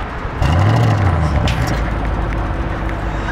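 An Audi RS7 with 600 PS fires up, its engine catching with a deep, loud burst and then settling into a rumbling idle close by.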